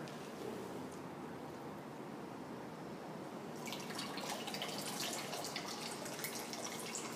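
Water drips and trickles softly from wet plaster casting strips left to drain, quiet and close, with a brighter splashing patter joining halfway through.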